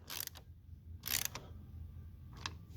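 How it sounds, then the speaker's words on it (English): Faint, short bursts of a ratchet clicking on a 2016 Chevy Equinox battery hold-down, three brief spurts separated by quiet pauses. "I'll use my ratchet so I can sort of feel how tight it's getting."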